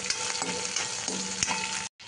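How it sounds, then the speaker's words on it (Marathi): Chili, ginger and garlic sizzle and crackle in hot oil with mustard seeds while being stirred in a pan, a steady close frying hiss with occasional spatula scrapes, cut by a brief gap near the end. "मिरची, आलं आणि लसूण हे टाकत आहे। थोडं हलवून घ्यायचं,"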